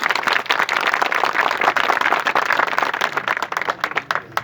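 Loud, dense applause and clapping from a large audience at a police-station function in District West, Saddar, sustained for several seconds close up with no talk over it.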